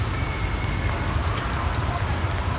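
Rain pours down steadily outdoors near a tamarind tree, a dense, even hiss of falling drops and patter on surfaces that holds constant from start to finish with no voices.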